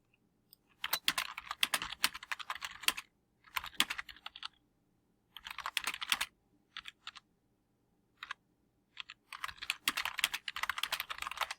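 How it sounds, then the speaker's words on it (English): Bursts of fast typing on a computer keyboard in a quiet room, close and crisp, arriving in several clusters separated by short pauses, with no voices. "I could keep typing"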